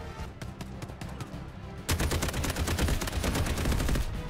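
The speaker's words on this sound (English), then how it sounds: "That was like five people shooting at me." Several shooters open fire together in the video game Delta Force, a quieter stretch suddenly giving way to loud, continuous, rapid overlapping bursts of automatic gunfire close by.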